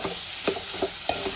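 Spinach and prawns sizzle steadily in a pan while a spatula scrapes through them in a few quick strokes, close and continuous, with no talking.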